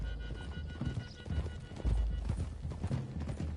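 Galloping horses in the video game Red Dead Redemption 2, several hooves drumming in a fast, dense clip-clop with low thuds, heard steadily throughout with no talking.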